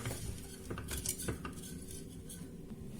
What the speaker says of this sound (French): On va mélanger jusqu'à ce que le chocolat fond.